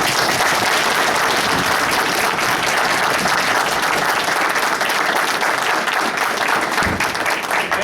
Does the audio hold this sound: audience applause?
yes